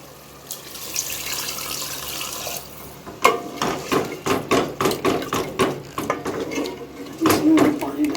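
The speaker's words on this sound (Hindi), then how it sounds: "अब इसमें हमने पानी डालना है।" Water goes into a pan of fried potatoes for an egg curry, first as a soft pour. It then turns into a run of sharp splashing and sizzling bursts with clanks from the pan, close and fairly loud.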